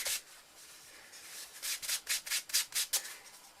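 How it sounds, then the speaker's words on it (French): A cloth rubs across the unmasked wooden frame of a mosaic to wipe off light-coloured grout, starting softly and then settling into a series of quick, brisk scrubbing strokes, close by and alone. "je vais passer un petit coup de chiffon sur mon bois qui n'était pas masqué"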